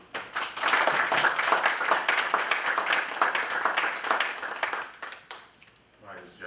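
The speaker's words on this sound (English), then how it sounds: "we do want to applaud them again for bringing this budget" Applause from the audience at a city council meeting in Plainfield, a steady burst of clapping that swells, holds for several seconds, then tapers off, with voices mixed in.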